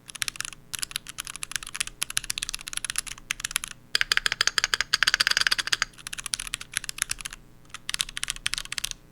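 An older Keychron mechanical keyboard is typed on up close, producing rapid, uneven bursts of clacking keystrokes with short pauses between runs and a denser flurry in the middle, with no speech.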